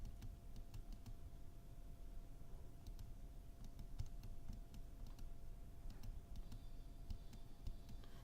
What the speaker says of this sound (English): you can tap around on your computer keyboard